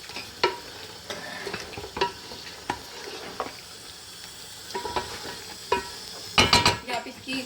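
Mutton chops roast in a karahi with dried coriander under a low sizzle. A spoon stirs and scrapes the pan in irregular strokes, with a few metallic clinks and a burst of clattering near the end.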